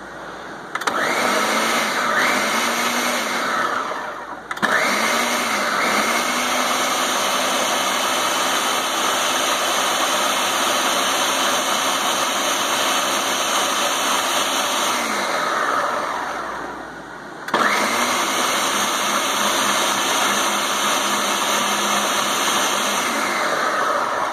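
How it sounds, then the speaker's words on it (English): A blender pureeing cored, peeled cantaloupe whirs loud and steady at close range, dipping briefly early on, winding down near the end, then roaring back up at full speed. "I'm now gonna puree this thing. Oh, if I turn it on first."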